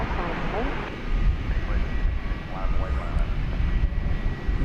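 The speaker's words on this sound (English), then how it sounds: "here comes a DHL mustard and ketchup livery, one of my favorites, coming in from Toronto" A DHL 777 freighter operated by Aerologic arriving from Toronto at DFW, its engines a steady distant drone heard under someone talking.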